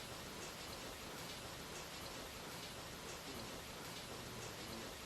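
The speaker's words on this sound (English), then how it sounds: "It is a wonderful rainy day that dawned with thunder." Steady, dense rainfall hisses continuously, close and even, with no voices or other sounds breaking through.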